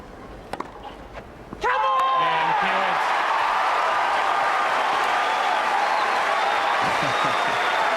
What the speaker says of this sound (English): the Aussie support in the crowd absolutely ecstatic at that break of serve